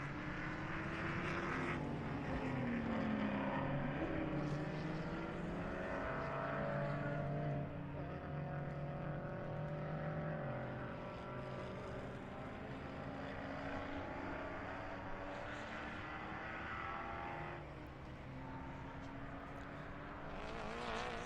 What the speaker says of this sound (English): Sounds of cars rolling here